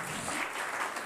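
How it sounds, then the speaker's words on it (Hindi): Students in a tenth-grade maths class clap together, a brief, continuous burst of hand claps with no talk over it. "तालियां बजनी चाहिए"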